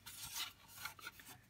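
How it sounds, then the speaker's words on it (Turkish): Hand sanding of a painted Fiat Punto Grande mirror cover, soft rasping strokes that come in quick uneven bursts, fairly quiet and close with no talking. "Güzelce zımparalım"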